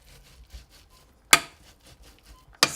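Pulses being mashed in a pot for soup, heard as two sharp, loud knocks of the masher striking the pot bottom about a second apart, with quiet soft squelching between them.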